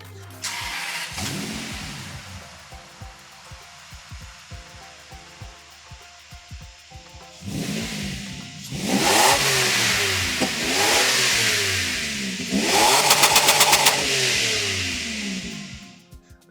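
A 1997 Toyota Century V12 with dual overhead cams per bank idles smoothly and quietly at first, then revs up in three strong bursts that climb and fall back, each rise louder and rougher before settling.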